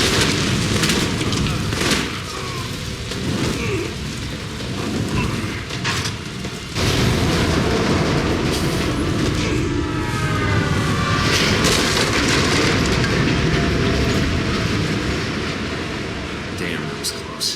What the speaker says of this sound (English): Think you can dodge a train?